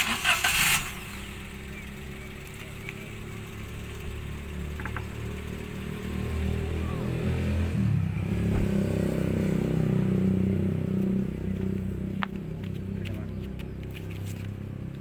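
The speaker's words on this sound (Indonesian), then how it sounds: "Kita nyalakan dulu mesinnya, lalu kita putar setirnya agar roda berbelok" A used car's engine starts and idles steadily nearby, a low continuous rumble with a slight rise in the middle, with no one talking over it.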